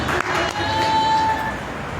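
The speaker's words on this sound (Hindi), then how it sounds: "एक बार ताली बजाइए भैया के लिए।" An audience at a naturopathy session claps for a man, a dense, continuous patter of applause from a crowd in a room, fairly loud and steady with a faint voice mixed in.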